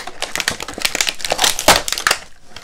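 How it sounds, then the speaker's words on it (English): Plastic packaging on a Star Wars action figure being cut open up close, a quick series of sharp, crackling snips and clicks over about three seconds, with no talking. "gonna just cut through the plastic here."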